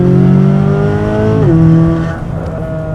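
Corvette C8 Z06 engine cruising in third gear at about 5,000 RPM in touring mode, a loud close steady drone that dips briefly in pitch midway, then softens toward the end, no voices.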